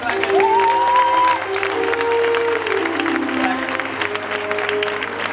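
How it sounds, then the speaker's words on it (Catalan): A crowd applauding steadily at a discotheque's seventh anniversary and awards event, the clapping sustained and fairly loud throughout, while a tone sweeps and holds in the background. "Fort l'aplaudiment per ells"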